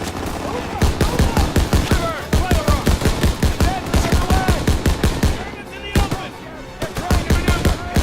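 Mounted machine gun firing in the World War II shooter Call of Duty WW2, loud rapid bursts of sharp shots in quick rhythm with brief pauses between strings, with a voice talking during the firing.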